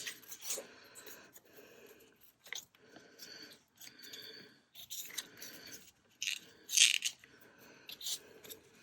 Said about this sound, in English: Just going to cut off this